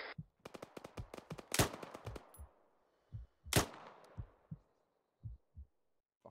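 Squad weapons firing in ArmA 3 combat: sharp, close rifle shots in quick bursts, then scattered single reports with short echoing tails and pauses between them.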